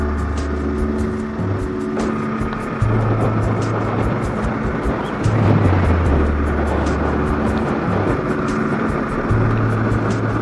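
A Yamaha R3 motorcycle engine held around 4000 RPM with a gear change, on a road ride during its break-in period: a continuous loud engine drone with wind rush and a brief dip in pitch partway through.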